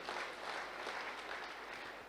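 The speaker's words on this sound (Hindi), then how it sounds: "जबरदस्त ताली होनी चाहिए" Applause from an audience at a network marketing speech, a dense, steady wash of clapping that holds evenly throughout with no talk over it.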